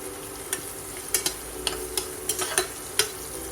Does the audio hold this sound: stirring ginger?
yes